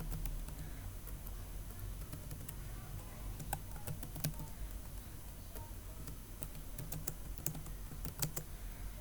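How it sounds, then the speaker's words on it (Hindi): Computer keyboard typing while notes are entered in a Word document, a steady run of light key clicks with a few louder taps, close and continuous over a low background hum, no talking. "यहाँ आप उसे टाइप कर सकते हैं"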